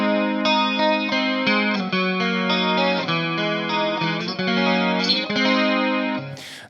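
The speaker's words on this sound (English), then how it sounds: "now let's try the MXR analog chorus" Electric guitar runs through an MXR analog chorus pedal, a sustained, shimmering stream of chords and notes played steadily and close, ending with a short burst of noise.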